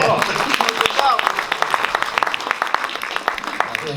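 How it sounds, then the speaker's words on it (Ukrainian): Audience applause at a commemoration event in Vynohradiv, a steady patter of many hands clapping, dense and fairly close throughout. "Оплески!"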